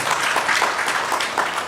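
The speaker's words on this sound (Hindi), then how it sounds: "एक बार उनके लिए आप तालियां बजा दीजिए।" An audience at a numerology workshop in the Constitution Club, Delhi applauds for Naresh ji with a steady, moderately loud patter of clapping hands that fills the whole moment.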